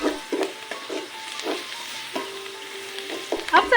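Curry powder being stirred into a frying pan over a charcoal stove in a rural kitchen, with a steady sizzle under repeated scraping strokes of the spoon, close up, ending in a louder burst of frying.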